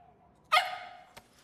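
A single short dog bark, sharp and moderately near, followed by a faint second yelp about half a second later, against a quiet background.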